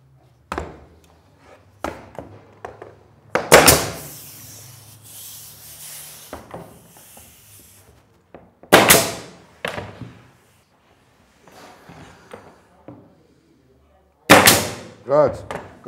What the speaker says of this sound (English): It's a pneumatic concrete nailer.